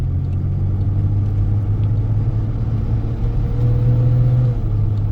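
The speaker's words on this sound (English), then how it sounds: "You can hear that fan, you hear it?" Radiator cooling fan running on a 2002 Ford Ranger pickup while driving, a steady low whir and hum under road rumble, constant and fairly loud with a slight rise near the end.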